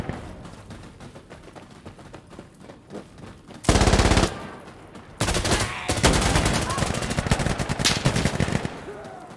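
Rapid bursts of automatic gunfire crack loudly in the Insurgency Sandstorm video game, starting with quieter shots and then breaking into long, dense, close volleys, with a player's voice in the background.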